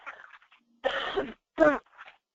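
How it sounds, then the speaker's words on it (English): Two harsh, close coughs with a brief throat clearing, separated by short pauses and preceded by a softer throaty rasp. "I'm going to cough a lot during this."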